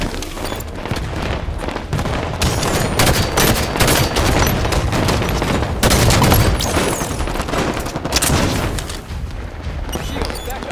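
Grenade blast amid constant gunfire in Halo 5: Guardians Warzone, a dense, loud barrage of shots and booms with no letup, the explosion buried in the continuous firefight.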